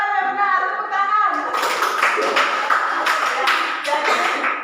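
Classroom applause from students, a burst of clapping rising after a spoken voice in the first second and a half, then continuing steadily and close by to the end.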